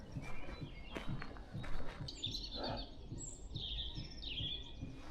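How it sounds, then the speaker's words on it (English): A robin sings outdoors in spring around sunrise, its bright, warbling phrases rising over faint rustling and footstep-like sounds nearby. "I just love the song of the robin."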